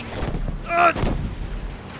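A tank-mounted cannon firing in the World War II shooter Battlefield V, two heavy booming blasts close together with a ringing tonal crack between them, set against busy game noise and background talk.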